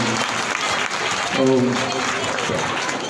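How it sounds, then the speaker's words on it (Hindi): An audience at a Jain religious gathering, led by a monk, claps in a steady, dense wash of applause. A voice briefly talks and sings over the clapping midway through. "सब लोग तालियां बजा दो"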